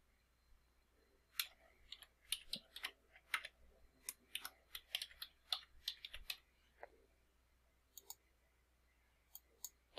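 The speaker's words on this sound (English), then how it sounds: "you can flesh it out by typing in what it is that you want to put in" Irregular bursts of crisp key clicks from a computer keyboard as text is typed into Striven business software, close and moderately quiet, with brief pauses between runs and no talking.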